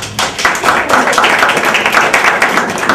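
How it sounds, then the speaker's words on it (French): Audience applause at an investiture ceremony, a steady dense patter of many hands clapping close by for about three seconds, with no talk over it. "Je vous demande d'applaudir Madame Boutia Corville"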